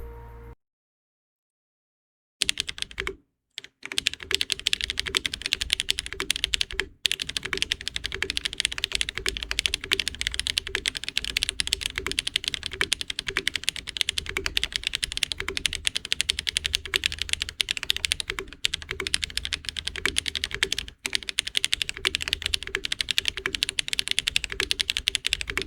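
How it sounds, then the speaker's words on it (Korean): Fast, continuous typing on a mechanical keyboard fitted with SPM HMX Pebble switches gives a dense, crisp, high-pitched clacking, close up and alone, with a few brief pauses. "이제 타건음 영상"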